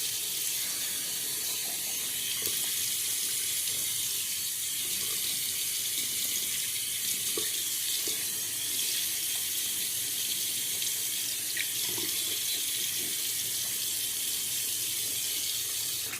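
Tap water running steadily into a sink to re-wet the face between passes during a wet shave, a continuous close hiss and splash with no talking.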